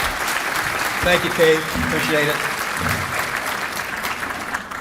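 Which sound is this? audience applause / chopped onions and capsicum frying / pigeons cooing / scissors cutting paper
audience applause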